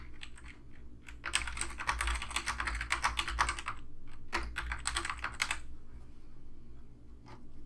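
Rapid typing on a computer keyboard as an email address and a note are entered, with dense bursts of clicking keys, a brief pause, then another short run of keystrokes.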